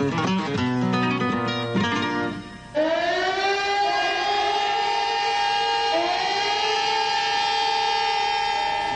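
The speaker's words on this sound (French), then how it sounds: "Lorsque les sirènes ont sonné" Civil defense sirens wail over Barcelona in July 1936, a loud sustained howl with steady layered tones that dip briefly before rising again, holding at full strength throughout with no voices.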